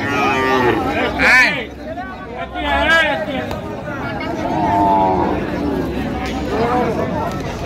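A cow moos several times, drawn-out and loud, amid a busy crowd of people talking nearby at a cattle market in Mymensingh.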